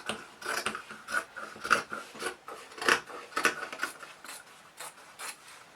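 Scissors snip and rasp through fusible fleece fused to denim for a tote bag, a series of about a dozen crisp, close cuts in an uneven rhythm, with no talking.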